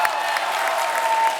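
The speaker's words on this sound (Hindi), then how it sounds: "जोरदार ताली होनी चाहिए" A studio audience on The Kapil Sharma Show breaks into loud, sustained applause, a dense wash of clapping from many hands filling the whole moment without a break.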